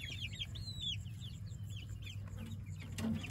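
Meat chickens on grass pasture inside a Joel Salatin-style chicken tractor, clucking and chirping in short repeated calls over a steady low hum, moderately near and fairly quiet.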